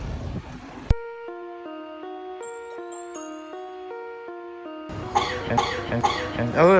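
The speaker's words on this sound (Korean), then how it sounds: "저 사람 계속 기침해." A harsh cough breaks out in Hua Hin, Thailand, followed by a clean, ringing electronic chime melody, then a burst of rough, noisy sounds like more coughing and voices.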